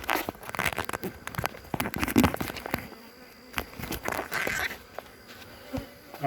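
A late-season honey bee swarm buzzes as a hive frame is shaken, a dense insect hum overlaid with sharp knocks and jostling thuds, fairly close and with no voices.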